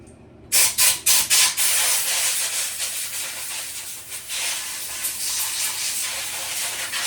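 An air compressor nozzle blows out chainsaw parts from a ported Homelite Super Mini, starting with four quick loud bursts of hissing air, then a sustained close blast with no talking.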